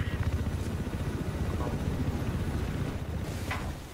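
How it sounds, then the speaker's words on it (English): Military helicopters in a Battlefield 4 match thrum with a fast, steady rotor chop close by, loud and continuous, while players talk over the noise. "Helicopters both sides."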